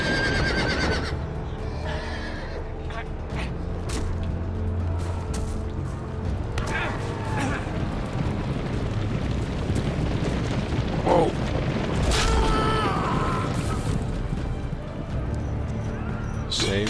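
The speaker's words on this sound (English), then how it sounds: "Saved by the horses." Horses neigh and whinny with hoofbeats during a chaotic Game of Thrones video game fight, mixed with booming crashes and an excited voice shouting over the continuous noisy scene.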